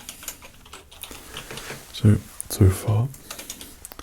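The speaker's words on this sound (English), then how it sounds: "Just typing everything up here." Soft keyboard typing in an ASMR doctor's cranial nerve exam setting, a run of light, irregular key taps with a few heavier thuds, heard under quiet, close spoken words.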